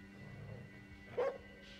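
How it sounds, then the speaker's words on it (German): A dog in the video game Ghostwire Tokyo gives a single short bark midway through, over a quiet low background hum. "Seit wann gibt's hier Hunde? Hallo Hund."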